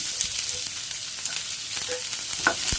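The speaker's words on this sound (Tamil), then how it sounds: "நல்லா அதை வதக்கி விடுங்க. கலர் வந்து மாறணுங்க." Half a large onion sautéed in a pan, giving a continuous close sizzle with occasional scraping stir sounds and soft clicks of the utensil.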